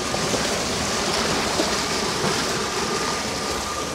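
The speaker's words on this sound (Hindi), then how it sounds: "सामने टर्बाइन चल रही है।" A water turbine pump runs with flowing water, making a loud, steady, unbroken rushing roar that stays level throughout, with no one speaking.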